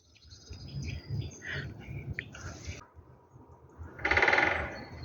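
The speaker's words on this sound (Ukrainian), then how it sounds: "Чуєте, дятел працює?" Out in a winter forest, a woodpecker drums on a tree in one brief rapid roll near the end, faint and distant, among scattered soft bird chirps and quiet ambient rustle.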